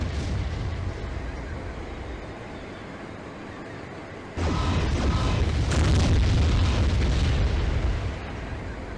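Mech weapons fire and explosions rumble in the MechWarrior 3 video game, a dense, continuous roar of booms and blasts that jumps louder midway and stays heavy before easing slightly near the end.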